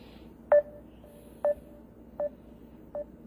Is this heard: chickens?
no